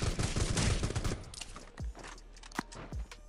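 Gunfire in the battle royale video game Rules of Survival, a heavy burst of rapid automatic shots followed by a few scattered single shots, loud and close, with no talking.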